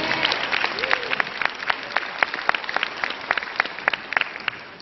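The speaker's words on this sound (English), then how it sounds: "Can you give yourself a round of applause?" A large audience at a corporate e-commerce conference applauds steadily, a dense wash of many hands with sharper individual claps standing out, close and moderately loud throughout.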